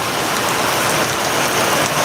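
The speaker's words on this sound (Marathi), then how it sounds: "तुम्हाला आवाज येत असेल या पावसाचा पत्र्याचा" Dense, loud rain drums steadily on a metal roof, a constant close clatter with no pauses or voices.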